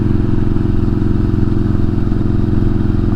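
A motorcycle engine runs loud and close while riding, a steady throbbing drone with constant pitch and no clear gear change, without any talk.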